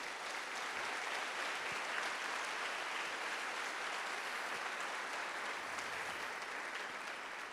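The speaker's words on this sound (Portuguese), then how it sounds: "dá um aplauso lindo para ele" Church congregation applauds during a sermon, a dense and even wash of clapping heard from a distance, continuous and steady with no voices over it.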